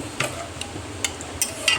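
A spoon stirs salted chicken gravy in a pot, giving a few soft scraping and tapping strokes over a faint low simmer.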